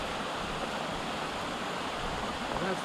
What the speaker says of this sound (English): So we're just going to get across this creek